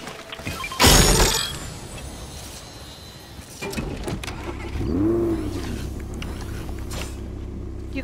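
A car starts up in Fortnite: a sharp burst, then the engine catches and revs with rising and falling pitch, holding a steady running hum to the end with no talk.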